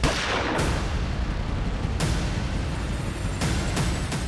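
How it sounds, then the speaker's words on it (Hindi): Gunfire in a crime drama scene, a booming shot ringing out near the start followed by further sharp cracks, loud and reverberant over a dense noisy background with no talking. "गोली चल जाएगी दृष्टि।"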